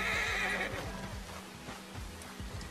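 A horse in Red Dead Redemption 2 gives a clear whinny at the start, followed by soft rhythmic hoof clip-clops as it plods along slowly in the game.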